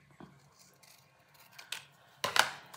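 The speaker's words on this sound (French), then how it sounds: "On coupe notre numéro 2." Scissors snipping paper during a scrapbooking craft, a few quiet, close cuts spaced out, ending with a sharper, louder snip.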